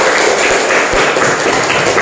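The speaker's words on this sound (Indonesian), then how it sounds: "Yang kasih tepuk tangan lagi." Pupils in a school classroom give a burst of applause during a teaching-practice lesson, a dense, steady patter of many hands clapping close by for about two seconds.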